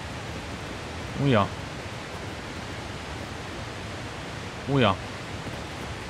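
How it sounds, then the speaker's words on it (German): A waterfall in the video game Satisfactory gives a constant broadband rushing roar throughout, with someone briefly speaking twice over it. "Das klingt nicht nur nach Wasserfall, das ist Wasserfall."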